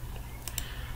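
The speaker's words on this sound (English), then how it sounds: "Then we'll type our number" A number typed on a computer keyboard, two quick soft key clicks close by against a faint background hiss.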